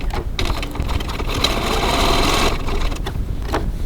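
Sewing machine running a steady straight seam on a wallet project at a 3.1 stitch length, a close, continuous mechanical whir with rapid needle clatter that briefly eases near the end.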